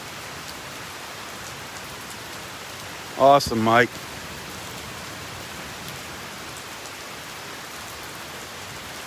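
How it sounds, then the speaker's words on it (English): Steady rain falls at a beach at Delnor-Wiggins on a wet Friday morning, an even hiss that lasts the whole time, with someone speaking briefly partway through. "waiting for the rain to stop."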